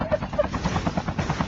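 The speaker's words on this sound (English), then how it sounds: "I just ruined our helicopter." Helicopter rotor and engine in a video game, a steady rhythmic thumping drone with chopping pulses, fairly loud throughout, with some voice faintly present underneath.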